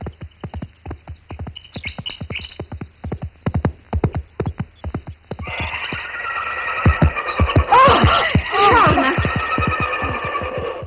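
A thoroughbred horse's hooves clip-clop in a steady trotting rhythm on a hard surface, close and distinct, with birds chirping, a horse whinnying and people talking over the later hoofbeats.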